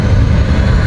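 A jet in the PowerWash Simulator video game roars away, a steady loud low-pitched engine rumble that holds unbroken for under a second.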